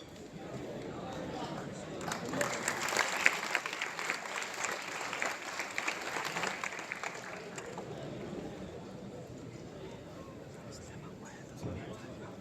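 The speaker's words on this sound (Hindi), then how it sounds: "आप लोग भी जोरदार ताली बजाते रहे" An audience claps steadily through a welcome at an expert talk and youth interaction event, a broad rattling wave that swells and then fades, with a voice speaking over it.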